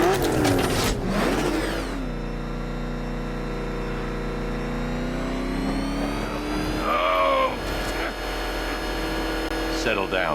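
A car engine in the video game Batman Arkham Knight hums steadily as the vehicle drives up and idles, with a rising rev near the start; characters speak over the engine at times.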